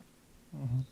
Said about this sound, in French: c'est un chat qui se casse la gueule